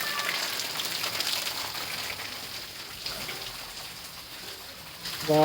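Light rain hisses steadily and softly, an even patter with no pauses, fading slightly before a brief tonal sound at the very end.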